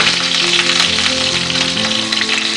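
Betel leaves go into a medicinal gravy sizzling in a pan, producing a loud, steady crackling fry that continues close and unbroken throughout.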